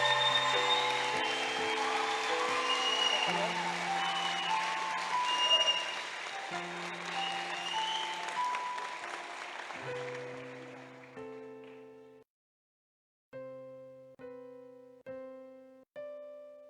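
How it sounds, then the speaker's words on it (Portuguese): A crowd at a church youth camp gathering applauds volunteers for several seconds, the clapping fading out as sustained musical tones continue and then play alone. "Eles merecem uma salva de palmas."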